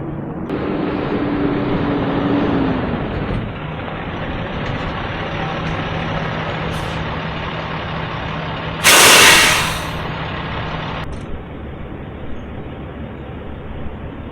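A semi truck is driven off a trailer with its engine rumbling close by. A loud burst of air brakes releasing cuts through partway, then the engine keeps idling.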